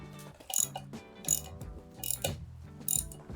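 Ratchet clicks in four quick bursts as a fill plug on a Dana 80 differential cover on a Ford F350 dually is tightened, each burst a short, close, crisp run of metallic pawl clicks with brief pauses between.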